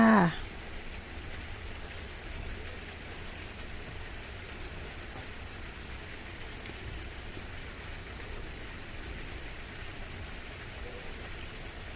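A steady, even hiss of heavy overnight rain falls continuously outdoors in Bang Sao Thong, Samut Prakan, moderately loud with no breaks, after a brief bump at the very start.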